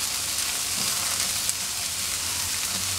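Onion sautéing in oil in a pan for masala bhindi gives a steady, close, even sizzle with a faint stir or clink near the middle, with no talking.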